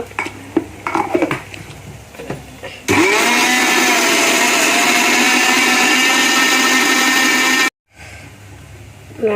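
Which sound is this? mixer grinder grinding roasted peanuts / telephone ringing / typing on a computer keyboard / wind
mixer grinder grinding roasted peanuts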